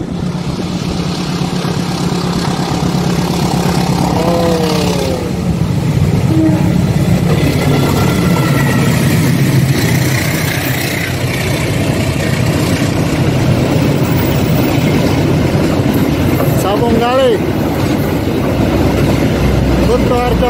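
Passenger train rolling past near the Kebasen railway tunnel by a river, a long steady rumble of wagons with a horn-like tone sounding partway, while people talk nearby.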